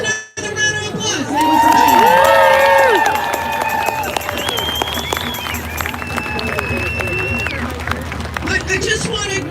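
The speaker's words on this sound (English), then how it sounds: "Let's give him another round of applause." Applause and cheering from a crowd at an outdoor trucker freedom convoy protest in Victoria, BC, filling the clip with mixed clapping, shouts and voices.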